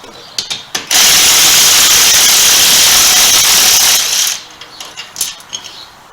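A ratchet wrench works loose the top engine mount bolts on a Harley motorcycle. A few short clicks come first, then about three seconds of steady, loud, rapid ratcheting close up, ending in a handful of scattered clicks.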